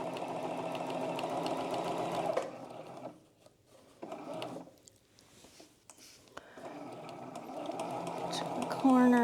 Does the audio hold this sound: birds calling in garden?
no